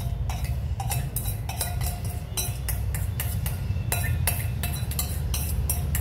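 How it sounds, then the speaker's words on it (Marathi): Alphonso mango juice sweetened with sugar being strained, with repeated soft metallic clinks and scrapes of a utensil against a strainer or bowl over a steady low background hum, close and alone without talk. "आता आपण तो गाळून घेऊया रस।"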